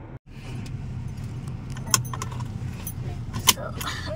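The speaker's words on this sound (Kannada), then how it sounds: "ಸೊ ನಾನೀಗ ಡ್ರೈವಿಂಗ್ ಸ್ಟಾರ್ಟ್ ಮಾಡ್ತೀನಿ" A bunch of car keys jangles close by as a car is about to be started, with bright metallic clinks standing out twice over a low hum of the vehicle interior; no one speaks.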